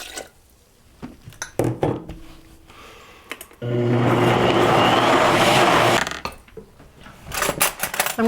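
After some light clattering and knocks, a kitchen blender roars for about two and a half seconds while blending a vegan chocolate peanut butter mixture, then stops, followed by more handling noises.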